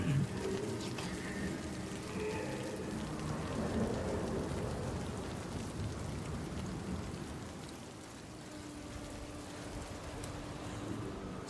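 A game storm in Senua's Saga: Hellblade II, steady heavy rain pouring on surfaces with low thunder rumbling beneath, continuous and fairly loud with no voices.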